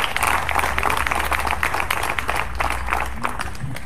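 Rally audience at a Voices for Choice event in Wilton breaking into applause, a brief burst of clapping from a crowd that fades slightly toward the end.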